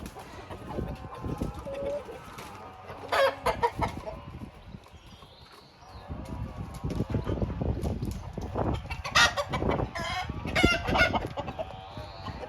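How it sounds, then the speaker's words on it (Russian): Chickens clucking and squawking nearby in a steady flurry of calls, growing busier toward the end, with no talking. "По-моему, старая курица Ломан Сэнди попала в этот вольер."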